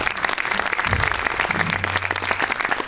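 An audience applauds at a cultural stage show, a dense, sustained burst of many hands clapping at close range that stays loud throughout, with a brief low murmur partway through.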